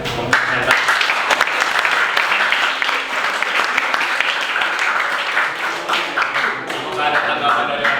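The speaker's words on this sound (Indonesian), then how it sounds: "Tepuk tangan untuk para presenter." A room full of people applauds presenters at a school project presentation on coconut fiber versus rockwool for sound dampening, steady loud clapping throughout with no talk.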